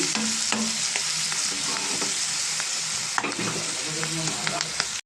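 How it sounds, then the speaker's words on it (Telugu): Onions and tomatoes frying in a pan for chicken curry, a loud steady sizzle with frequent spoon scrapes and knocks, close and continuous until an abrupt stop. "ఉల్లిపాయ టమాటా బాగా ఫ్రై అయింది కదండి"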